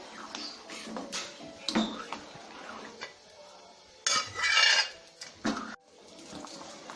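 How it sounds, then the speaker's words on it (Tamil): Sambar of bottle gourd in a pot being stirred after coconut and lentils go in, with scattered scrapes and metallic clinks of a spoon against the vessel and a louder burst of clattering midway. "இப்போ தேங்காயும் பருப்பையும் ஊற்றி கிண்டிடலாம்"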